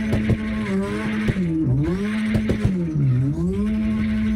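A tuned drift car in CarX Drift Racing Online whines at a high, steady engine pitch that dips and rises with throttle blips while tires screech through a sustained slide.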